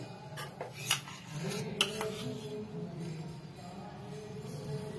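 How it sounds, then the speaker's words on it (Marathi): A metal wok clinks and clatters as it is set on a stove, with two sharp ringing knocks amid softer handling sounds. "इथे मी कढई ठेवलेली आहे"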